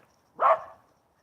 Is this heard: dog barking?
yes